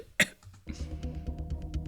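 A man gives one sharp, close cough, then muffled murmuring and low background noise carry on in a casual podcast studio.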